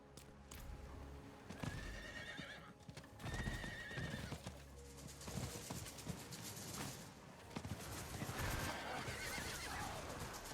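Horse hooves clip-clop steadily while a horse whinnies a few times, with a busy mechanical game soundtrack layered underneath.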